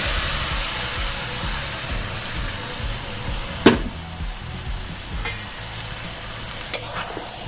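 Cabbage cooks in a hot pan just after a splash of water, a steady close sizzle and bubbling with a couple of brief clinks of a utensil, no voices.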